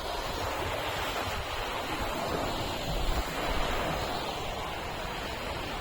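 Sea water surges in at Kapu beach in Udupi as a steady, broad wash of surf, blended with gusty wind rumble on the microphone. No one speaks.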